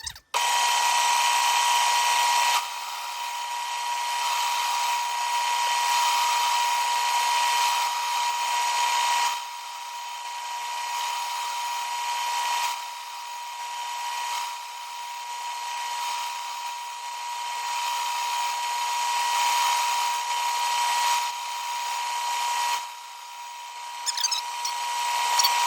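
An Atlas Craftsman lathe cuts a Logan 6560 spindle spacer, a steady close, loud machining whine and hiss with a constant tone, dipping briefly in level several times as the cut changes, with no talking.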